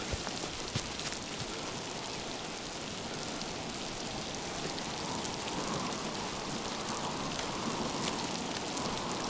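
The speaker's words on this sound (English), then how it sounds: "Of course, it is raining, naturally." Steady rain pattering on surfaces in the video game Miasmata, a dense continuous hiss of drops that holds at an even level throughout with no voices.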